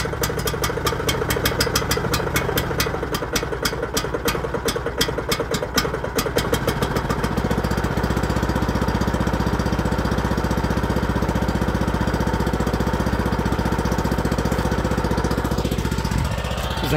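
Yamaha MX300 walk-behind tractor engine running loud and close, a rapid even chugging at first that smooths into a continuous steady drone.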